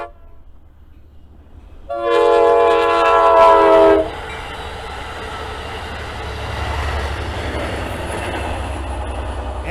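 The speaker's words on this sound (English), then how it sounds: "Yeah, here's the ACE train." An ACE Amtrak California passenger train sounds a loud two-second horn blast, then rumbles past steadily along a trail near Alviso and Mallard Slough.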